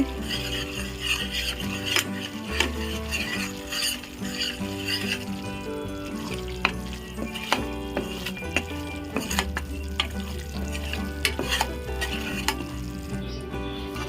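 Flour is stirred into hot oil in a pan for sukhdi, giving a continuous soft sizzle under repeated scraping strokes and light metallic clinks of the spoon against the pan.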